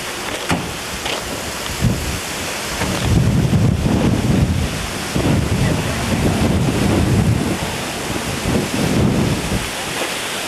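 Hurricane-driven surf from Hurricane Hugo pounds Long Beach on St. Croix, loud rushing waves surging and breaking under heavy wind buffeting the microphone, with no clear speech.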